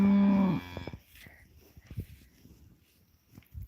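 A single deep, loud moo from a cow at the start, then soft shuffling and movement sounds nearby.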